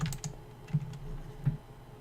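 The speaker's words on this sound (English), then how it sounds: "I'm like typing in the time set command" Keys clack on a computer keyboard while a command is typed into a Minecraft-style game, with a few quick taps followed by two louder keystrokes spaced apart, close and alone with no voices.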